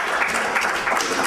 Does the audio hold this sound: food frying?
no